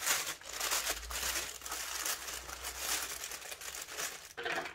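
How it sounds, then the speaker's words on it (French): Blunt scissors work at an unboxing package, producing close, continuous crinkling and tearing of packaging with scraping rustles throughout. "je vais vous ouvrir ça tout de suite avec mon ciseau qui coupe pas"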